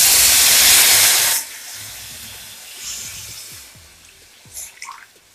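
Milk poured into hot roasting semolina bursts into a loud steamy hiss, then fades to softer bubbling and crackling as the pan settles.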